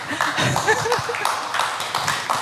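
Scattered clapping from a small live audience at a public event at La Bellevilloise, a loose patter of hands under a murmur of voices, close and moderately loud.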